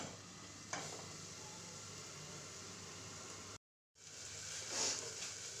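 Fiddlehead greens cooking under a lid in a pan, giving a steady soft sizzle and hiss that runs throughout, with a brief stir or clatter near the start and a short break partway through.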